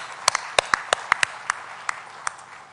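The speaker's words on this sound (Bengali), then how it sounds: "তাদের উদ্দেশ্যে আমরা একটা হাততালি দেই।" Audience at the Bangla Academy book fair: a few scattered, separate hand claps that are crisp and near, about a dozen in under three seconds, thinning out toward the end with no cheering.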